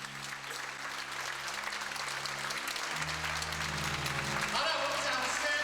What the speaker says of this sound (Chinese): 我们掌声恭喜